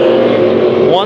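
Race cars roaring around a speedway track at Arizona Speedway during a heat race, a loud continuous engine drone with a pitch rise near the end, under an announcer's commentary.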